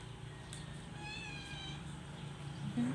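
A single cat meows once near the middle, a short harmonic cry that stands out over steady background noise, with no talk.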